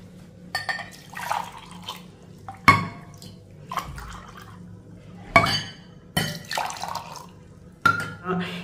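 A cucumber weight-loss drink is poured into a glass in bursts, with splashes and liquid trickles alongside glassy clinks, close and clear against a quiet background.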